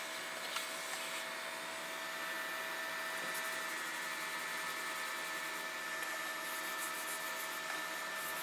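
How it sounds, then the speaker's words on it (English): Vacuum cleaner drawing up sanding dust from a model ship build, a steady close whine and airy rush that holds continuously throughout, with no speech. "And then we'll vacuum it up."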